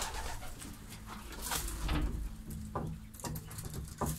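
Pigeons in a pigeon loft give soft, low cooing with faint rustling and scratching close by, steady throughout with no speech.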